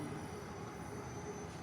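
A metro train passing by in Bangalore, heard as a faint, distant, continuous rail rumble with a thin squeal running steadily throughout.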